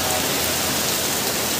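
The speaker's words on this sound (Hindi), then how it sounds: "भयंकर बारिश हो रही है" Heavy rain pours outdoors in a dense, loud, unbroken hiss that stays at the same level throughout, with no talking.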